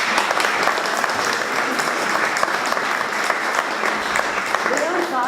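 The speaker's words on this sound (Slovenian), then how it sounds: "En aplavz, upam." Audience applause at the closing ceremony of the 2016 Mechanic of the Year competition, a dense steady clapping from a crowd that holds level for several seconds, with a voice faintly audible beneath near the end.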